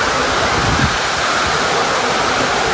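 Heavy rain pours down at the Mini Pavagadh temple hill, a dense, loud, unbroken rushing hiss that fills everything without any pause.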